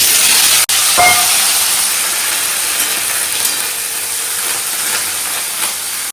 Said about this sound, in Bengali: এই যে আলুটা ভাজতে চাপিয়ে দিই